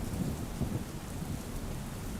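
Heavy monsoon rain pours down over flooded roads in Junagadh, Gujarat, as a dense, unbroken hiss of falling water that stays steady throughout with no voices.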